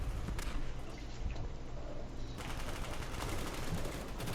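Rapid automatic fire from a video game gun fitted with an extended 60-round magazine, a dense continuous burst of shots that fills the whole stretch at steady loudness.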